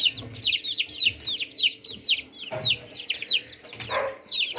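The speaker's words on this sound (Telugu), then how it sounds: "ఇవి అయితే 10 కోళ్ళు మనం అమలాపురం నుంచి తీసుకొచ్చినవి" Chickens and chicks held in a brooder cluck and chirp in rapid, overlapping high calls, close and steady, with a few louder squawks breaking through.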